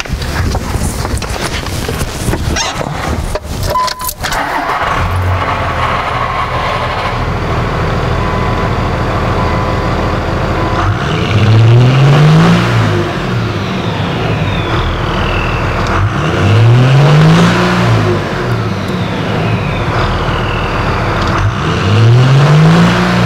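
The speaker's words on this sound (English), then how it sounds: "right now we're gonna go ahead and fire the truck up. We're gonna record three different snaps." A diesel truck starts up and idles, then takes three sharp throttle snaps a few seconds apart, each a loud rising and falling rev over a steady low rumble.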